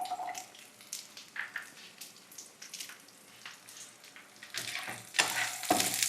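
Garlic and shallots frying in a pan, a crackling sizzle broken by stirring scrapes, growing louder and busier toward the end, with no speech.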